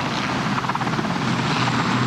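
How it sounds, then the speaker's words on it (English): A helicopter lands on a playing field next to a local hospital, its rotor and engine roaring loud and close in a steady, churning wash with no voices. "whenever the helicopters land"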